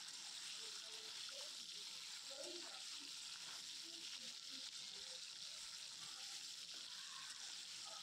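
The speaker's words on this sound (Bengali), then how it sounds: "তো আলুগুলো আমি এখানে চলো ভেজে নিই, যেগুলো কেটে রেখেছিলাম আমি" Cut potatoes fry in hot oil in a steady, even sizzle that stays constant throughout, close and moderately quiet, with faint soft bubbling beneath.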